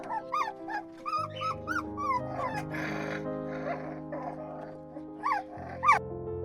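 A dog whimpers, whines and yips on reuniting with its owners after three years, a run of high, wavering cries close by with a few short, sharper yelps near the end.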